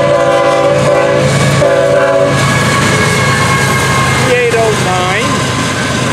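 A loud FEC freight train horn blasts twice in quick succession, then the heavy rumble of passing piggyback cars continues with a short metallic squeal.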